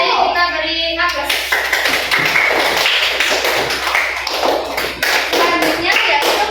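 A classroom of students gives a student group a burst of applause, with many hands clapping close and loud in a dense, uneven patter that lasts several seconds, with voices mixed in.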